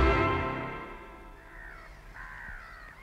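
Crows caw outdoors: a loud, harsh call opens, then several rougher, fainter caws follow at a moderate distance, with no talk.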